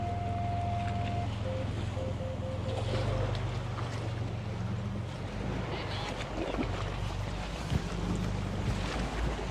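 A 2025 Lexus GX550 Overtrail's engine hums steadily while water sloshes and splashes around it as it drives through an off-road water section, with a broad rushing wash and bubbling exhaust throughout.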